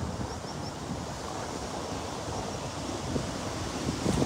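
Wind blows steadily across the water at a fishing spot where a net is being cast, a constant broadband rush with faint wave wash and light bumps of microphone buffeting.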